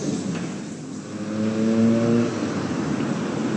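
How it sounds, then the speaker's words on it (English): A London number 11 double-decker bus rumbles past on a city street, a steady engine drone swelling briefly as it draws near, with general traffic noise around it. "Oh, look! There's a number 11 bus."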